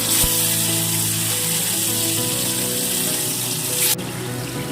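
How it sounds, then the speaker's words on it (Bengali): Fish pieces fry in hot oil in a pan, giving a loud, dense, continuous sizzle that drops to a quieter hiss near the end. "তেলটা গরম করে নিয়েছি, এবারে আমি মাছগুলো এক এক করে ভেজে নেব"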